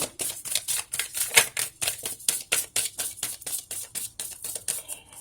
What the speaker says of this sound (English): I'm going to shuffle your Monology cards